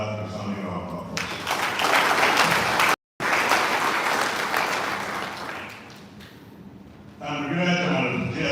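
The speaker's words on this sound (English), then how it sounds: "I feel we should give our guest lecturer another resounding round of applause" A conference hall audience at the AHQ DATI logistics needs assessment conference gives the guest lecturer a resounding round of applause. Clapping swells, cuts out briefly, then fades, with a speaking voice before and after it.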